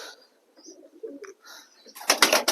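Racing pigeons in a loft give soft low coos at close range, then a loud burst of wing flapping near the end, with no talking.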